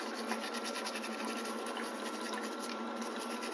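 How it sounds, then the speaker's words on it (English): A toothbrush scrubs a denture, a steady rapid bristly brushing with fine rhythmic strokes, close up and continuous with no pauses. "So I'm brushing."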